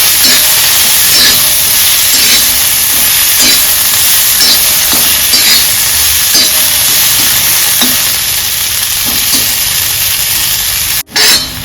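Stuffed-aubergine filling roasts on a hot griddle with the gas switched off, a loud close continuous sizzle and hiss with rhythmic stirring scrapes, no talking.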